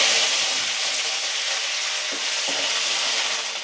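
Mustard seeds, cinnamon, dried chili and curry leaves fry for a tempering before potatoes go in, giving a loud continuous crackling sizzle close up, with a couple of brief knocks, no voices.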